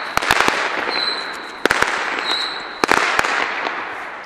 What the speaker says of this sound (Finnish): tässä jatketaan rakettien paukuttelemista ja tämmöstä